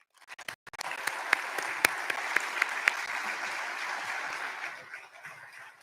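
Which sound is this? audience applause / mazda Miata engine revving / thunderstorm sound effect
audience applause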